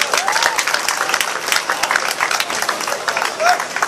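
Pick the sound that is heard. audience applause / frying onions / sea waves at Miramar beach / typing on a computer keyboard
audience applause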